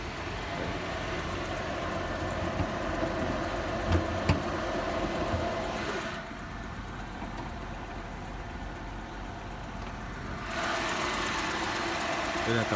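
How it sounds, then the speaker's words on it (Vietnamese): A 2009 Chevrolet Spark three-cylinder engine idling with the hood open, a steady low mechanical hum heard up close that softens briefly midway before returning. "Máy nổ rất thì thầm luôn."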